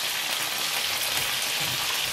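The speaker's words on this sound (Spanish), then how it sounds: "Voy a seguir friendo" Battered squid and carrot strips fry in hot oil in a Spanish kitchen, a loud, dense, continuous sizzle with no one speaking.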